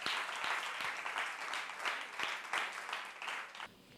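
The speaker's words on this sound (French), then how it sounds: "On va applaudir une fois de plus pour le lycée de Ngamakosso." Audience applause for Lycée de Ngamakosso at a student journalists' festival in Congo: a crowd's continuous clapping, moderately loud and even, swelling and easing slightly over several seconds before tapering off.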